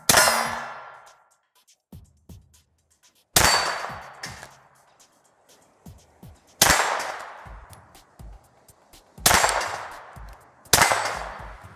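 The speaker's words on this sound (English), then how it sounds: "let's try shooting these plates now with a suppressor and see what the difference is" Suppressed Glock pistol shots ring off steel plates in about five sharp metallic clangs spaced a few seconds apart, each followed by a short ringing decay, with faint small knocks between.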